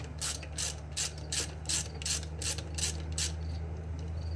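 A hand ratchet loosens a bolt on a 12.5 HP mower motor, giving a regular series of sharp clicking pawl strokes, close and fairly quiet over a low steady hum.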